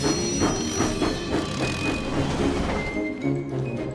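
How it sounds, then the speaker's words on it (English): A cartoon steam locomotive rolls along the rails with continuous rumbling, clicking wheels and a faint metallic squeal. "Thomas huffed happily out of the steamworks with Annie and Clarabelle."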